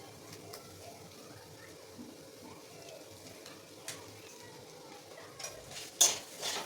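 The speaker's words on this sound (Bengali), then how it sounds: "চিকেনের সাথে মিশাতে থাকবো" Four medium boiled potatoes, mashed, are stirred and fried with cooked-down chicken in a pan for a chicken chop filling: soft, steady scraping and gentle sizzling, faint throughout, with a few sharper utensil knocks near the end.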